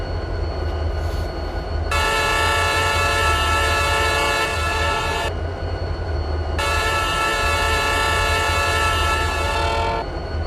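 Canadian Pacific SD40 locomotive horn in the video game RO-Scale Sandbox, sounding two long sustained blasts of a loud multi-note chord, each about three to four seconds, over a continuous low engine rumble.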